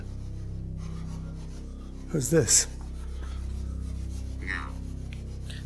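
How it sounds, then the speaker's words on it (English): A short rough rubbing scrape, like a hard piece sliding over wood, heard close over a steady hum, with a faint voice nearby. "It's a shuffleboard piece."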